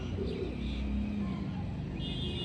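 Pet pigeons coo softly in a loft, a low continuous murmur of birds close by with faint background noise and no talking.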